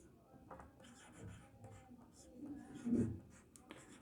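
Pen writing on paper during a Class 10 maths lesson on polynomial zeros: faint, soft scratching strokes at close range, with light hand movements and a slightly louder stroke near the end.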